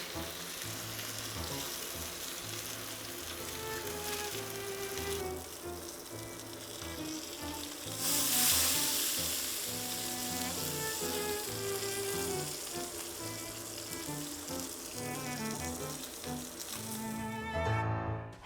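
Bacon and thick pork belly fry on a Blackstone griddle in a continuous close crackling sizzle that holds steady throughout, swelling briefly once, with no talk.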